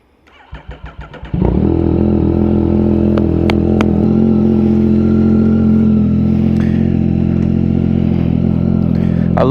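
A motorcycle engine cranks in a few rhythmic turns, catches after about a second and a half, then settles into a loud, close, steady idle that keeps running to the end.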